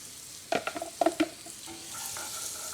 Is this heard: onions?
yes